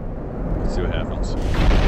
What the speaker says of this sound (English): The explosions are glorious.